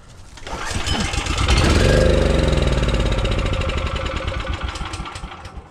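Briggs and Stratton generator engine, salvaged from the garbage, cranks and catches within a second, then runs with a loud, rapid, steady chugging idle close by.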